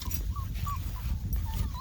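Newborn puppies from a litter of eight whimper in a workshop, with faint high squeaks and whines over a steady low hum.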